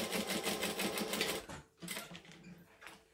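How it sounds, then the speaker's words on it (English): Short tack stitching on a clutch bag: a sewing machine chatters in a quick, close burst, pauses briefly, then runs again for a second short spell. "So I'm going to stitch there"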